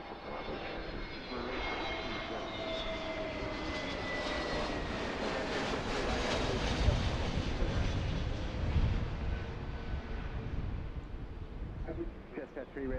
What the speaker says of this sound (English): Can you hear the aircraft sounds all right?